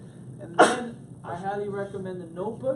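A single sharp sneeze bursts out once, loud and close, interrupting a man giving an onboarding program talk, whose speech then resumes.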